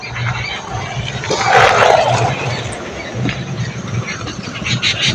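Train rolling along its rails, a low, continuous rumble that swells into a louder, brighter rush partway through before settling back to a steady drone.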